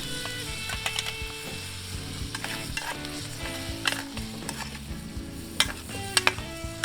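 Potatoes fry with spices in a hot pan for a wild-food nettle sag aloo, a steady close sizzle broken by the scrape and clatter of stirring.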